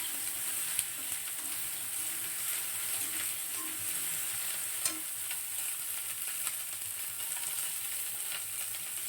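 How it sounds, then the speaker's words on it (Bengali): Vegetables with cumin paste fry in a pan while cooking spinach, giving a soft, steady sizzle with faint crackles and occasional small pops. No one speaks. "জিরে বাটা দিয়ে দিলাম"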